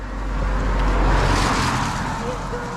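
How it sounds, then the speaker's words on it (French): A car passes on a road in Ireland, its broadband engine and tyre roar swelling to a peak in the middle and then easing away, heard close by with a slight wind rumble. "il y a une autre voiture qui passe"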